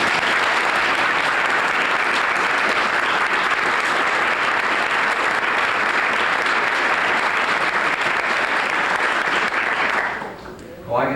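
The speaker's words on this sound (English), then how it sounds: "I think we just need one last round of applause for all recipients this evening." Sustained audience applause for civic service award recipients at a 1983 awards ceremony, dense steady clapping filling the room for about ten seconds before tapering off abruptly.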